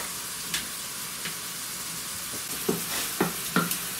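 Älplermacaroni mixed in a hot pot with a wooden spoon, a soft steady sizzle with a few scattered knocks and scrapes of the spoon.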